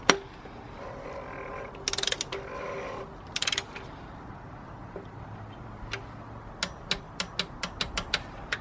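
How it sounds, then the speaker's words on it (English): A torque wrench tightens an oil filter housing cap down to 25 Nm with a socket, giving a few clattering metal bursts early, then a steady run of sharp, close ratcheting clicks in an even rhythm. "install our oil filter socket and then torque it down to 25 Newton meters"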